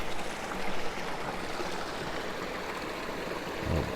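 A stream flowing beside a hiking trail in Abbott State Forest, a steady broadband rushing of water, moderately loud and continuous, with no voices.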